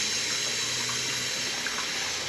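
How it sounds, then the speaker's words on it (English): Water running steadily from a tap into a sink, a continuous even hiss and splash, moderately loud and close, with no voices. "I'm going to turn the water on here."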